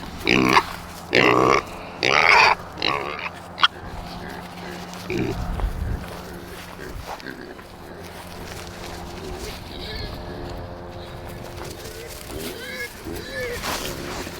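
Pigs grunting and oinking at feeding time on a small farm, several loud close grunts in bursts early on, then quieter snuffling and grunts continuing under a voice.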